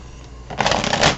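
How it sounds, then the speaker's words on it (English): Tarot cards being shuffled up close, a quiet pause then a dense burst of rapid riffling flutter lasting about half a second, alone with no talk. "Okay, one more shuffle and then cut."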